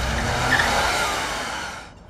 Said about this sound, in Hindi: अजय, गाड़ी रुको।